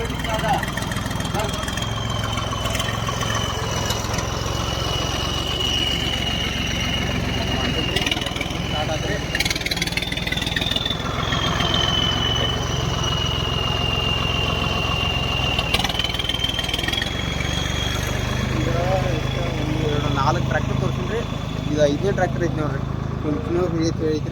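A tractor engine runs steadily throughout, a continuous mid-pitched drone with a wavering high whine, while people talk over it.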